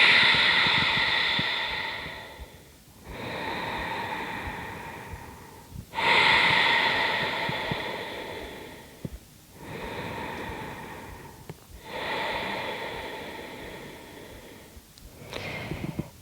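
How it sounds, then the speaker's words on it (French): Slow, deep breaths during a morning yoga routine come close and loud, with long airy inhales and exhales repeating about every three seconds, six in all, and no talking. "Prenez encore avec cette conscience dans les pieds quelques grandes respirations"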